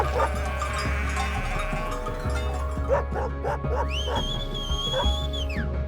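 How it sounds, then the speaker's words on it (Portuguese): Sheepdogs bark repeatedly, some near and some farther off, while herding sheep and goats through mountains in Kazakhstan, over a constant low rumble, with a long rising-and-falling whine near the end. "cães pastores demarcavam o trajeto das ovelhas e cabras"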